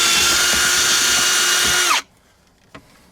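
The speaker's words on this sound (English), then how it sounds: "for this example, we needed a 3/4 inch hole cutter" A power drill fitted with a 3/4 inch hole cutter bores through a van door, a loud, high whirring grind for two seconds that stops abruptly, followed by a faint clunk.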